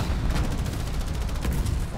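Gunfire in the war game Foxhole: a rapid burst of repeated shots with heavy low rumble, loud and close throughout the short stretch.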